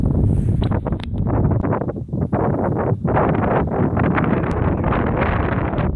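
Strong wind buffets the microphone on an exposed hilltop beside a summit cairn in the Ettrick Hills, loud continuous rumbling gusts with brief dips, no talking.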